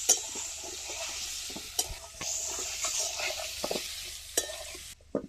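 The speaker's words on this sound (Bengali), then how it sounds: "এবার ভালো করে একটু ভেজে নেবো আলুগুলো।" Potatoes fry in a pan with chili and turmeric powder, a soft continuous sizzle under repeated scraping and stirring strokes of a utensil, with occasional louder knocks against the pan before stopping abruptly at the end.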